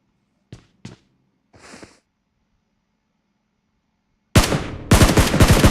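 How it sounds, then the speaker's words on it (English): Warning shots fired in a video game: a few isolated sharp cracks early on, then after a pause a loud burst of rapid, rolling gunfire that runs to the end. "Lobos will send some warning shots"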